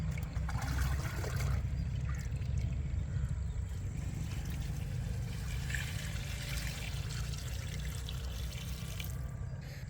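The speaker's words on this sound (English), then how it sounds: "Pour enough water over the top to soak in scraps until it starts draining through the holes into the" Water poured over kitchen scraps in a 5-gallon bucket drains through holes into a bottom bucket, giving a continuous soft trickling wash with a steady low rush underneath.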